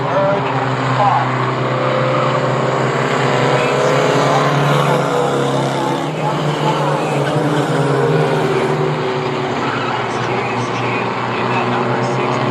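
Mighty Trucks race through the corners at Star Speedway, their engines droning loudly and continuously in a dense pack, under a commentator's fast play-by-play.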